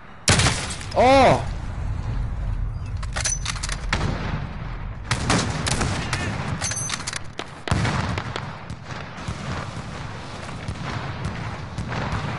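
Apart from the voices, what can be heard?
gunfire in a video game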